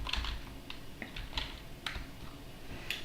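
Quick keystrokes on a computer keyboard as a command is entered at a terminal, a steady run of light clicks and taps with a few louder strikes, close and alone with no voices.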